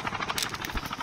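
A helicopter in the mobile shooter Call of Duty Mobile, during a battle royale match, makes a steady, close, rapid rotor thrum that stays loud throughout.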